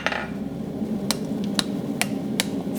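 A blacksmith strikes hot metal on an anvil with four sharp, ringing hammer blows spaced roughly half a second apart, close and clear over a low background hum.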